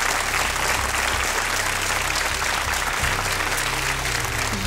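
Dense, loud applause from a large studio audience, sustained clapping that fills the space without pause, with a low musical hum underneath, on a Swedish television bingo show.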